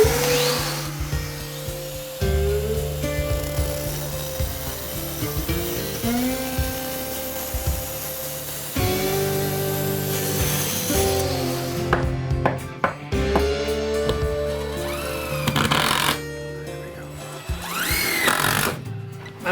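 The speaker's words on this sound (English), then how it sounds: "we're just gonna run the vacuum and cut this out" A power saw bites into stone tile for a shower remodel while a vacuum runs, loud grinding cuts rising and falling in pitch and stopping and restarting, with harsh bursts near the end.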